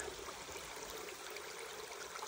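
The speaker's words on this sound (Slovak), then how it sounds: "Pár metrov za Kysakom som našiel takýto krásny potok." A small clear stream in the woods near Kysak flows steadily, a continuous close wash of water with no talking.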